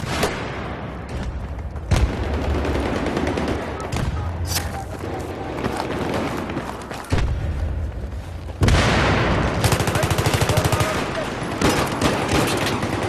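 Dense bursts of gunfire and heavy booms in a combat scene, with rapid machine-gun fire and shots piling up loudly throughout and a louder barrage after the midpoint.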